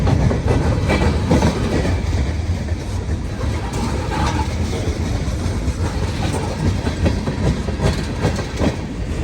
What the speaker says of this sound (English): creating a kind of mechanical symphony to accompany the movement of the train